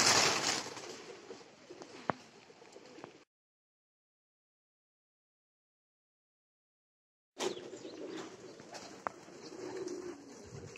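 Pigeons coo softly at the Sputnik-style entrance of a pigeon loft, low murmuring calls close by with faint rustling, broken by a few seconds of silence before the cooing resumes.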